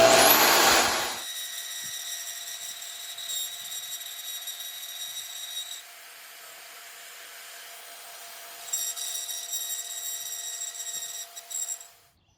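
Milwaukee portable bandsaw mounted on a Diktator band saw table, a loud burst at startup settling into a steady, high-pitched running whine that varies slightly as it cuts, then stops.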